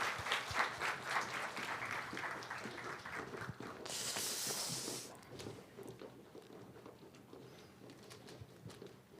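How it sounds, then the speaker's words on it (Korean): Church congregation applauding during a Sunday worship service, a soft, distant wash of clapping that thins out midway, with a brief burst of hiss and a few scattered claps trailing off. "영광의 박수 합시다."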